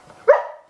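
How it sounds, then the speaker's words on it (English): An Australian Shepherd gives a single sharp, frustrated bark, loud and close, rising out of near silence and trailing off quickly. "he's an Australian Shepherd, he can be very vocal at times and really express his frustration with me"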